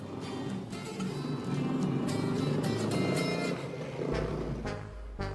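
A car being driven, a steady loud engine and road roar that holds throughout, with a brief low rumble change near the end.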